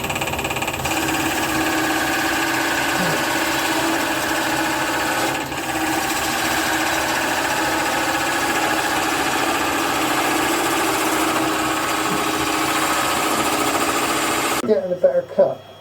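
Wood lathe turning with a chisel cutting the wood, its back edge compressing the fibres, giving a steady whirring, buzzing drone that holds loud and even throughout before stopping near the end, with faint voices underneath.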